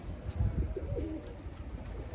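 Domestic pigeons coo softly in low, murmuring phrases from a loft or rooftop, with a steady faint background hiss and no talking.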